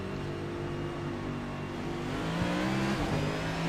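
A race car engine in a NASCAR Next-Gen racing video game drones and revs at the start, a loud, steady engine tone with pitch that shifts slightly as the throttle changes, with no voices.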